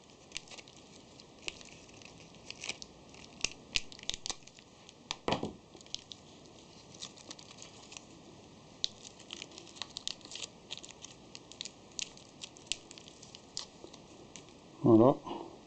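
A small packet of collets for a workshop drill sharpener is torn and crinkled open, scattered light plastic rustles and taps, then a louder crinkle at the end, with no talking during it.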